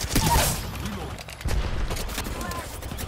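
Rapid video-game gunfire rattles in dense bursts while an enemy is shot in midair, loud and continuous across the moment, with voices talking over the shooting.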